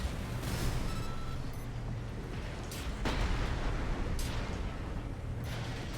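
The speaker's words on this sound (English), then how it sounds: "No recoil from a powerful cannon." A tank's powerful cannon fires in the Armored Core game, booming blasts over a dense, roaring rumble of engine and battle noise, loud and continuous with several sharp impacts.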